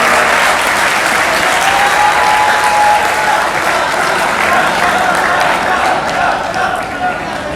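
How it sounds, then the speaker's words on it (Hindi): An audience at a mushaira poetry gathering at KEMU University breaks into sustained, dense applause, loud and close, holding steady with a slight fade toward the end. "उनके लिए तालियां बजा दें।"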